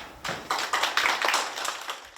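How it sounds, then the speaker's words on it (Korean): A small audience at a university library book club results presentation applauds after a team's talk, giving a short burst of scattered, fairly close hand claps that thin out after a couple of seconds, with no speech. "끝까지 열심히 해준 우리 팀원들에게도 박수를 보내고 싶습니다."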